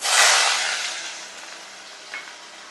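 Ginger pieces dropped into hot ghee in a pan, a bright sizzling hiss that starts loud and slowly fades to a softer steady fry, with one small pop near the end.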